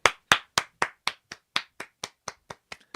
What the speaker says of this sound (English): Pretend my model's clapping.